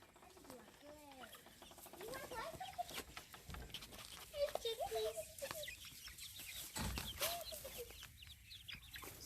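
Chickens leaving a covered chicken run chirp and cluck softly in scattered, uneven calls, faint and fairly distant, under rustling and outdoor background noise.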